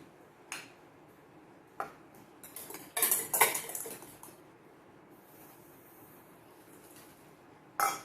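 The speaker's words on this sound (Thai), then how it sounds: "เดี๋ยวเรามา ตีไข่แดงกับน้ำตาลกันนะคะ" Egg yolks and sugar being whisked in a bowl, heard as scattered metallic clinks and scrapes of utensil on bowl, with a louder burst of rapid clatter midway and quieter gaps between.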